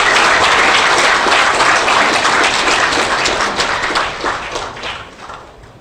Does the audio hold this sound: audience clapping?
yes